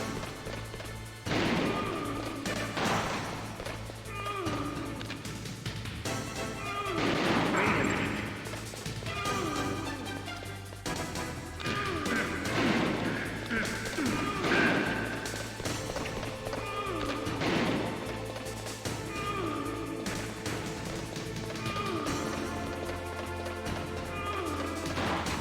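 Gunfire and impacts in Metal Gear Solid on PlayStation, repeated bursts of shots and crashes ringing out over a steady looping game soundtrack, fairly loud throughout.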